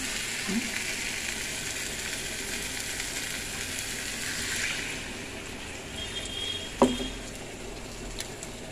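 Broth is poured into a frying curry, a steady low sizzle and bubbling with one sharp knock of a utensil near the end, fairly quiet and with no voices.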